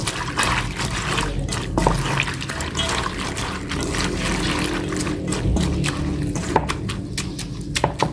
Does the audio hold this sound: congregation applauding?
no